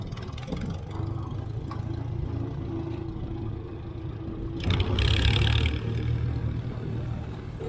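A Farmall 350 tractor engine idles steadily at close range, a low continuous rumble that grows louder and harsher about two-thirds through, as if the throttle comes up, during hay wagon work.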